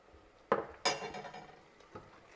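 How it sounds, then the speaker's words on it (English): Risotto rice is stirred in a pot with chicken stock, a spoon clinking and scraping against the metal in a few sharp knocks, then a softer wet churn and one last tap, close and alone. "Just give the rice a little bit of a stir."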